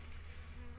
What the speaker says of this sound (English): Oh, come on, bee. Get out of there.